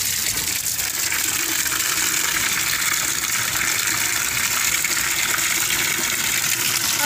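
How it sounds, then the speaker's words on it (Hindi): Tap water gushing and splashing steadily into a tub or bucket, ready for hand-washing a load of clothes in a village home; a loud, continuous broadband rush with no pauses, heard alone. "यहाँ पे आता है ये पानी"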